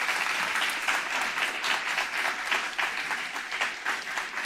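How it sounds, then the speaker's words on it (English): Sustained audience applause for the speakers at a one-day character education program event, a steady dense patter of many hands clapping throughout, moderately close, with no one speaking over it. "Let's give all our speakers a round of applause."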